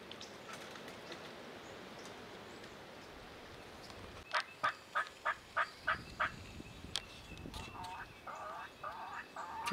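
A series of rapid, rhythmic gobbles from young wild turkeys rings out in bursts over steady background noise in a Kansas field, with more scattered calls following further off.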